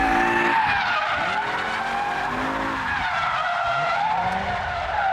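A 2005 BMW M5 E60 with a 5.0-litre V10 understeers at high speed on a race track, its tires giving a loud, sustained squeal and skid over the high-revving engine, with a brief snap at the end.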